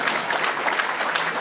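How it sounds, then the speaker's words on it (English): An audience at a City of Chicago event claps for a woman being honored, a dense, steady burst of applause filling the room, fairly close and even in level, with no speech over it. "Let's give her another round of applause."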